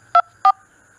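Two short phone keypad beeps in quick succession, close and clear, then quiet.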